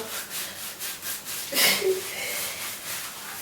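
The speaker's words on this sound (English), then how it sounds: "you just scrub the scalp" Hands scrubbing a bald scalp during washing, a rhythmic close rubbing and swishing with a louder scrape midway, with some talk faintly present.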